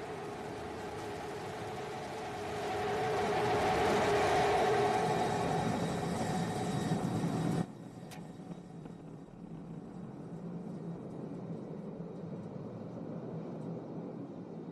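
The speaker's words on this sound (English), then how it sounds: "Starship heading back to the landing zone." SpaceX Starship SN15 rocket engines firing during landing make a distant, broad roar that swells over several seconds and then drops off sharply into a fainter rumbling background, with no talk.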